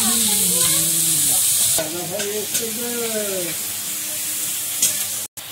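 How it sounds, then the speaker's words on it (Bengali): Onions sizzle in hot oil in a pan while being stirred in a home kitchen, a close, steady frying hiss with scraping stirs, and voices and other background sounds briefly break in over it. "পেঁয়াজটা ভাজা ভাজা হয়ে গেছে"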